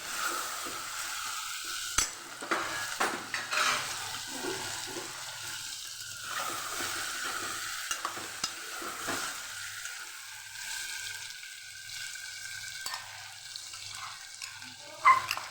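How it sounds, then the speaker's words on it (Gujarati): Chopped tomatoes are stirred and sautéed with onion and potato in a pan, a low steady sizzle under repeated spoon scrapes and clinks, with a few sharper knocks. "એ પણ સરસ મિક્સ કરીને સાતળી લેશું"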